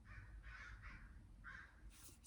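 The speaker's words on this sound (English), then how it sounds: "Crows are fighting outside." Crows fighting outside give a series of about five harsh caws in uneven bursts, faint and distant over a low background rumble.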